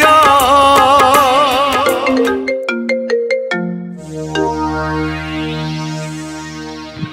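A melodic mobile phone ringtone for an incoming call, loud and close, a bright looping tune that settles into sustained synth tones, alone with no talking.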